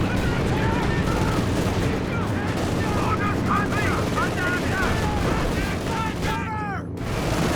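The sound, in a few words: machine gun fire in video game Company of Heroes 2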